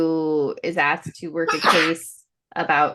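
Sneeze during a podcast conversation, one sharp burst mixed in with ongoing speech from a man.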